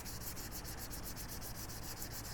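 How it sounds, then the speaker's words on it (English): A sanding block with sandpaper scuffs back and forth across the surface of a metal dolly in fast, even strokes, a loud continuous rasp close up. "grab a sanding block, some sandpaper, and start scuffing up the surface"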